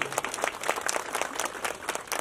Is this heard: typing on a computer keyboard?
no